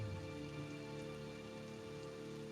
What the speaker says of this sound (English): And I hear nothing but the rain.